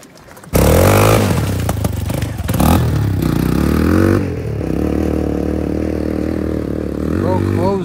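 A dirt bike engine fitted with a paddle tire, started with a sudden loud roar and then revving and holding a steady, close drone with rising pitch swings, alongside some scraping clatter.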